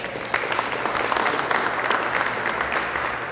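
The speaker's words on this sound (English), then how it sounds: "Can we give them a nice round of applause as well?" A banquet audience at a basketball awards dinner applauds steadily, a dense, even wash of clapping from many hands that stays loud and sustained throughout.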